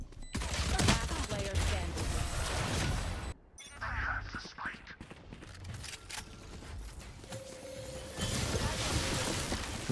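Rapid gunfire in Counter-Strike, dense bursts of shots in the opening seconds, a brief drop-out, then more firing with voices talking in the background.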